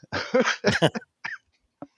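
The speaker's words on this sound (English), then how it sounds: "I have a bit of a cough." A few harsh, close coughs in a quick cluster, trailing off into a couple of smaller throat-clearing hacks.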